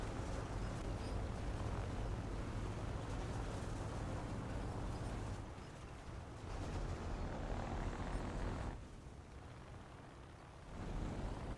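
Bomber aircraft drone through a combat video game as a loud, steady engine roar with a wind-like rush, dipping briefly twice before swelling again.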